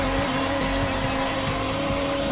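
A car driven badly in the video game Watch Dogs, its engine droning steadily and loudly with squealing tires, with no talk.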